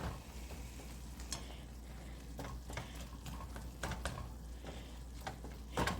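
Hamburger meat browns in a pan for homemade spaghetti sauce, a steady close sizzle and crackle with occasional scrapes of a utensil stirring through it, no talking.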